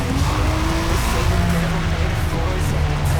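A BMW M3 revs hard in first gear in the Forza Motorsport racing game, a loud, sustained engine drone that shifts pitch, with faint tire squeal and a voice talking over it.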